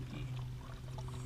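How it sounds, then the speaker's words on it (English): Water pours steadily into a cup of acid stain for mixing, a close, low continuous stream with light splashing and a faint background hum. "So when I do 1 to 5, I got to add the water to it."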